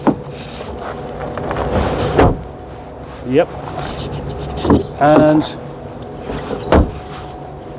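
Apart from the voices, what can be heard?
car doors being shut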